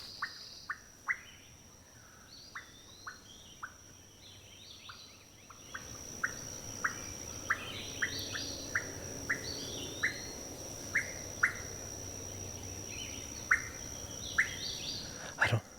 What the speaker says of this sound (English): I don't know what kind of bird that is. I wonder if it's like a whippoorwill